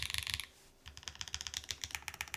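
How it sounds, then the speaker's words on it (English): Rapid typing clatters on a Keycult No.1/65 gasket-mounted mechanical keyboard, with crisp close keystrokes in quick bursts broken by a short pause. "just so we can get a quick little typing demo of this now"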